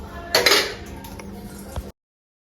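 Tea cups and dishes clink briefly as tea is served, a short burst of close ceramic chinks followed by a faint knock before the sound cuts off.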